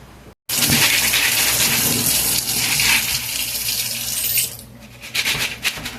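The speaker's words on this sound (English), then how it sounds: "fill up the pot with water and throw it on the stove" Kitchen tap running hard into a cooking pot, a loud continuous gush that briefly cuts out, then resumes with a shifting pitch as the pot fills before the flow tapers into uneven splashes.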